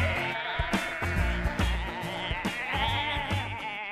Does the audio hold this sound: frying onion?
no